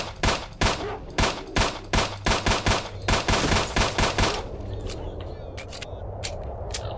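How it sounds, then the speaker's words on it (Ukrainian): Rapid bursts of machine gun fire rattle loudly in quick repeated volleys in S.T.A.L.K.E.R.: Shadow of Chernobyl, then a few scattered shots crack out over a rumbling background. "Там хтось ще з кулемету стріляє."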